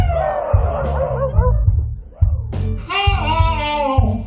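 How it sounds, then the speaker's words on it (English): Dogs bark, yip and whimper inside a blues song recording. The bursts are loud and close, blended with sung melody and a steady rhythmic backing throughout. "The dogs begin to bark."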